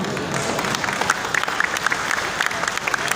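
Dense, steady applause from an audience at a mushaira, an Urdu poetry recital held for a medical college's 40th anniversary. It is a continuous crowd clapping with sharp individual claps poking through, and nobody speaks over it.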